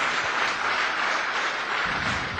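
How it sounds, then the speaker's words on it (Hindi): An indoor audience at a business seminar claps in a brief, even burst of applause without talking over it. "जोरदार तालियां इनके लिए, थैंक यू वेरी मच।"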